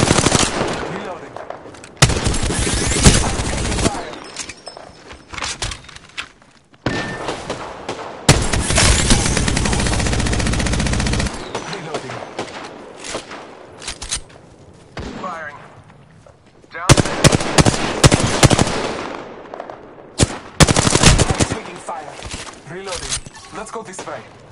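Automatic gunfire in the shooter Apex Legends: loud, sustained machine-gun bursts and volleys come in several waves, separated by quieter gaps, while a player talks over the action.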